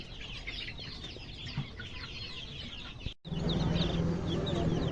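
Sonali chickens cluck steadily in a busy group, with close, continuous chatter and a brief pause before the flock noise returns louder.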